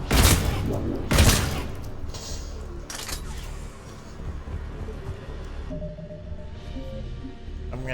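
A shotgun fires in the sci-fi shooter Mass Effect 3: two loud, sharp blasts come about a second apart, then a weaker third shot, with quieter game noise after.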